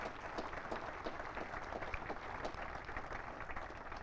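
Sustained, dense clapping from an audience at a U.S. Army Cadet Command change of command ceremony at Fort Knox, fairly distant and even, with no voices on top.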